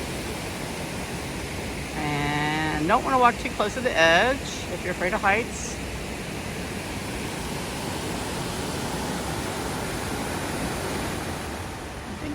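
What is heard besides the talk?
wild rushing creek with waterfalls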